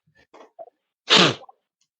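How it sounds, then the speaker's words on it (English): A single loud, close sneeze bursts out after a few soft breathy sounds and faint murmurs, followed by a brief quiet sniff. "Hang on, I got to sneeze."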